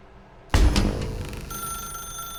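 A telephone rings in the video game The Stanley Parable, a sudden loud clattering bell burst after a quiet moment, followed by a sustained ringing tone that fades slowly.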